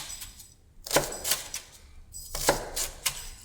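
A kitchen knife mincing food on a board in two bursts of quick, sharp, fairly close chops separated by a brief pause, with no talking.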